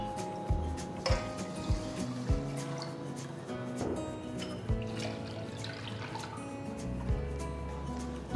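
Water is poured from a cup into a pressure cooker holding roasted millet, with splashing, dripping and clinking sounds, soft and close, no talking.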